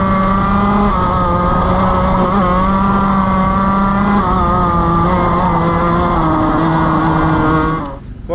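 A race car howls steadily at close range as it is driven hard through the corners of a circuit, its loud engine note rising and falling with throttle and gear changes for several seconds before cutting off abruptly.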